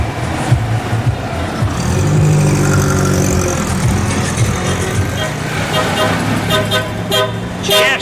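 Vintage Citroën cars rolling out at an oldtimer rally at night, engines rumbling and revving close by with horn toots, amid crowd noise and some talk.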